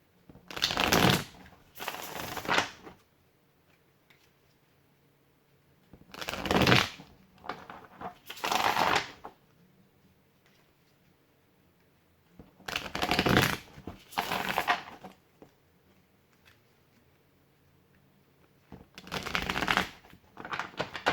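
Tarot cards are riffled and shuffled in four brisk bursts, each a couple of seconds long, separated by pauses of near silence, close and clear.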